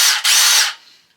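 A Milwaukee M18 Fuel impact driver runs loud and close in one sustained high whir, broken by a brief dip near the start, before it spins down and fades out.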